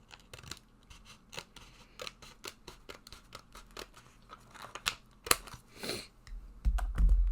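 Scissors snip through paper ahead of loading it into a Cricut Joy for personalizing resin pieces, a rapid run of close, crisp cuts ending with a louder low thump.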